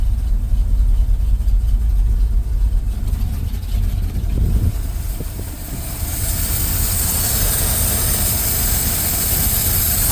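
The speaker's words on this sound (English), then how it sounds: "I call that an idle." A Ford F350 truck engine idles steadily after its fuel problem is repaired, a loud continuous rumble with a broad hiss that rises somewhat toward the end, close by, with no talking.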